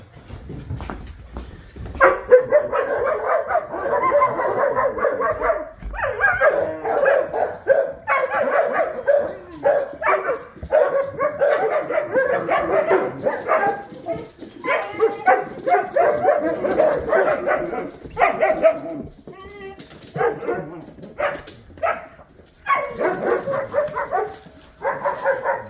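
Several dogs bark and yip continuously and loudly at close range, a dense overlapping chorus with occasional whimpers, nearly unbroken throughout.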